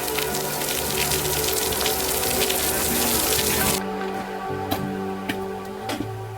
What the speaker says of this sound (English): look at that water running down